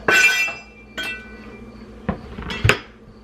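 Chopped, peeled carrots dropped into a cooking pot, a few sharp metallic clanks and clinks at irregular intervals, close and fairly loud, with no talking.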